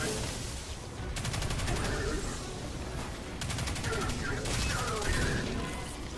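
A submachine gun fires in Destiny 2 in long rapid bursts, two sustained strings of fast rattling shots separated by brief pauses, with combat noise and faint speech underneath.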